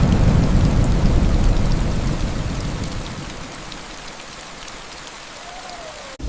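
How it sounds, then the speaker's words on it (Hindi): Steady rain pours in a cartoon story scene, loud and dense at first and then easing to a softer patter, with a faint low rumble of thunder underneath and no voices. "उनके लिए ये पहली बारिश थी जो उन्हें किसी अजूबे से कम नहीं लग रही थी।"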